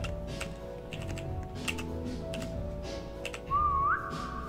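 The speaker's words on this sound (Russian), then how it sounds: "Еще раз свистни." A person whistles a short rising note over Roblox voice chat, heard briefly near the end amid clicky keyboard typing and faint background game sounds.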